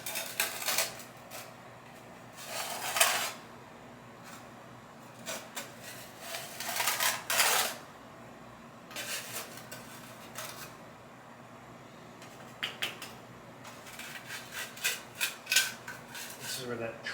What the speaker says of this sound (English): Here we have our taping knife. We're just going to smooth this out.